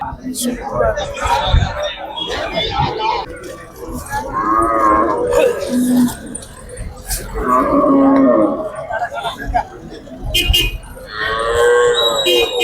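Cattle at the Melapalayam cattle market in Tirunelveli district lowing with several long moos, near and loud, over a steady background of crowd chatter and someone talking.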